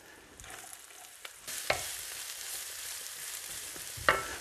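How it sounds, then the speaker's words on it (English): Chopped onion goes into a pan of hot rendered chorizo fat, giving a steady close frying sizzle with stirring scrapes and a couple of sharp clacks, heard alone. "I'm going to add in all this onion."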